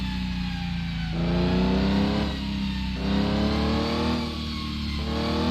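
A car engine in a mobile driving game revs repeatedly, climbing in pitch then dropping as it shifts, in a steady cycle of accelerations with no voices.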